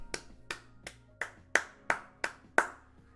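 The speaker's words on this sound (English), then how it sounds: "Everyone clap it up." About eight sharp hand claps at a steady, unhurried pace, close and fairly quiet, over a faint low tonal background hum on a basketball podcast.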